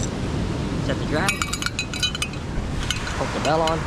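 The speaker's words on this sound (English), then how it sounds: "Hook the bell on." A small bell is clipped onto a fishing pole set up for ulua shore fishing, giving a cluster of light metallic jingles and clinks with a later faint tinkle, while a person speaks briefly nearby.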